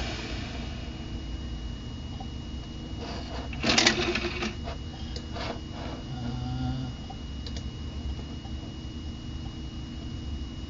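A Mac Pro computer runs with a low steady whir, and a short burst of faint hard-drive clicking and ticking comes in partway through.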